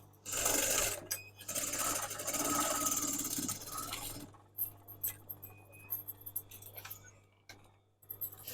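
A sewing machine stitches a fabric lining into a crochet bag, running in a fast steady whir for several seconds, then stopping, followed by scattered clicks and light handling noises.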